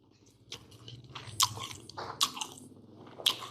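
Someone biting into and chewing crunchy guava, close and fairly quiet, with several distinct crisp crunches spaced out over a steady chewing rhythm and no talking.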